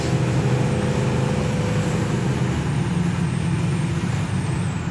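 A 1967 Impala SS 396 V8 pulls hard on a transmission kick-down, a loud steady engine roar with road and wind noise heard from inside the car, no talk.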